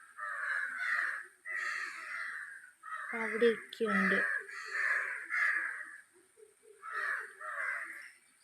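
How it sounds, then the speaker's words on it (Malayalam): Crows gathered to bathe give a steady series of harsh, close caws in short bursts, and a person speaks briefly in the middle. "ഇവിടെ എല്ലാം കാക്കയുണ്ട്."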